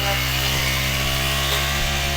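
A grass cutter runs on a small farm with a steady, loud engine drone and constant harmonic buzz throughout, close by and uninterrupted, with no voices.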